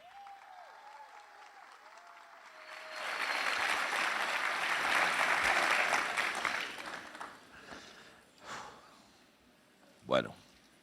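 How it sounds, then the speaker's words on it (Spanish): After a voice speaks briefly, a church gathering of pastors and leaders breaks into strong applause welcoming a speaker. The sustained clapping swells, then tapers off into scattered claps and a few stray noises near the end. "Y lo recibimos con un fuerte aplauso"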